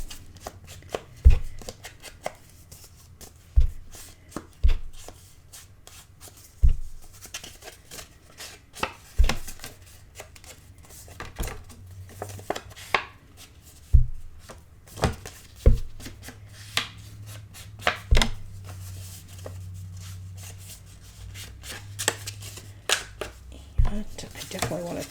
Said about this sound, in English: I definitely want to trim that extra point like I always do off of this.